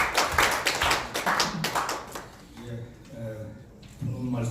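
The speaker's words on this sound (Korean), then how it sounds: "힘찬 박수로 맞아주시기 바랍니다." Applause from an audience at a Korean parliamentary debate forum greets a vice speaker of the National Assembly, loud dense clapping for about two seconds that thins out, with voices talking as it fades.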